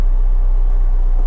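An Alfa Romeo 4C sports car's engine rumbles steadily while driving in Sport Dynamic mode with manual gear changes, a continuous low drone with no voices.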